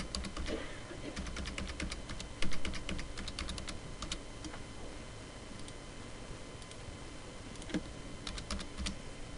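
Keys click on a computer keyboard as credit card details are entered, a quiet, irregular patter of taps in short bursts with a couple of louder strikes.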